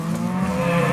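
An animated cow gives a single sustained low moo, steady and fairly clear from start to finish, with no talking over it.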